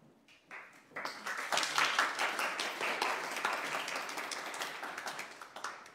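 An audience applauds a professor, Dr. Brenda Schofield, as she is introduced at a history talk: dense, steady clapping from many hands builds quickly and holds for several seconds at moderate distance.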